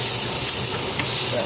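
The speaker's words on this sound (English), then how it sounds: "So bacon generally doesn't really need that long, obviously depending on the sort of heat you've got it on" Bacon frying in a pan for a sandwich, giving off a steady, close sizzle and crackle that holds at an even level throughout.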